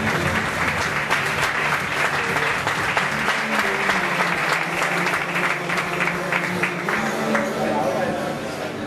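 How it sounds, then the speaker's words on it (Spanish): A crowd at a poker tournament final table in Seville applauds the croupiers, dense sustained clapping from many hands filling the room evenly, loud and continuous before easing slightly at the end. "un fuerte aplauso por favor para todos los croupiers"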